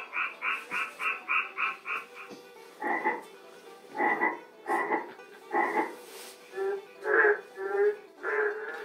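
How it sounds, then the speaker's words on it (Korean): Rhythmic frog, narrow-mouthed toad and toad calls at a park ecology exhibit, a fast run of evenly spaced calls followed by slower, louder bursts, with other croaking voices layered in the background. "개구리, 맹꽁이, 두꺼비 소리가."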